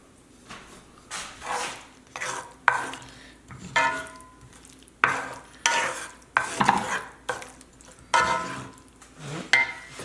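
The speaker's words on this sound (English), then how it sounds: "Mix that together." Chicken seasoned with salt and pepper is stirred in a pan or bowl for sesame chicken, with repeated scraping, mixing strokes in an uneven rhythm, close and moderately loud.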